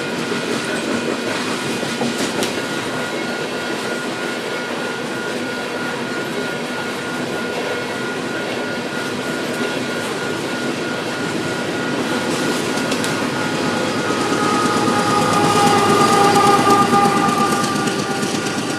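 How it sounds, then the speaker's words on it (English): A Union Pacific eastbound coal train rolls through Gibbon, Nebraska, heard as a steady, continuous rumble with faint clickety-clack of wheels on the rails, swelling slightly louder near the end with no voices. "we see this eastbound coal train curving into the Marysville subdivision"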